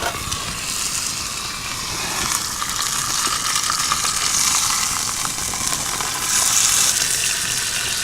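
Chicken pieces fry in a pan with a steady, close, broadband sizzle and crackle that holds fairly even throughout, with no voices.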